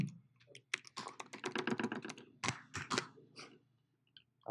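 Someone types on a computer keyboard at close range: a quick, uneven burst of soft keystrokes over about three seconds, then a few scattered taps in a quiet room.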